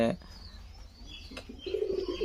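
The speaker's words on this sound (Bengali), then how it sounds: "ওই কবুতরগুলো তাড়াতে গেলে এই কবুতরগুলো চলে আসে" Pigeons coo and flutter inside a house during a feeding, with soft low cooing and brief rustles near the listener. A person talks over part of it.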